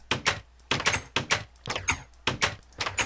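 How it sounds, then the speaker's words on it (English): Doors in Minecraft release candidate 2 open and close repeatedly with the new door sound, a rapid series of sharp wooden clacks and thunks in an uneven rhythm, close and loud, with no talking. "So I put all my doors back, and you'll notice the new sound for doors."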